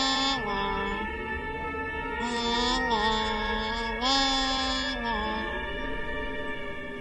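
A slow, wavering melody of the moon song from the Fatal Frame: Mask of the Lunar Eclipse game on PC, with sustained tones that gently bend between notes, played steadily for several seconds with no talking.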